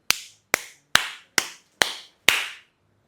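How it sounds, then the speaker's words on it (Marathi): Six sharp hand claps ring out at an even, unhurried pace, each crisp and loud with a short room decay, alone with no voices. "मी वाजवली टाळी."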